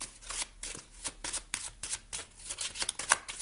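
Tarot cards being shuffled by hand, a close, steady run of crisp riffling flutters in quick repeated bursts, with no talking.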